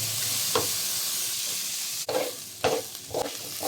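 Onion and ginger sizzle in a hot pan, with a steady frying hiss broken by several sharp scraping stirs of a utensil in the second half, close and moderately loud.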